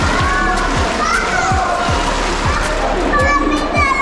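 Fast, deep water flows and splashes through a cave at a picnic spot, a steady rushing wash throughout with rhythmic low thumps, while children and adults talk and call out over it.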